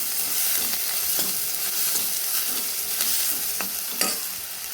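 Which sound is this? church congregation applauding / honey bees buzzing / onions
onions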